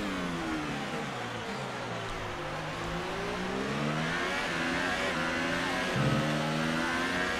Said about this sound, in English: And braking hard into turn 1.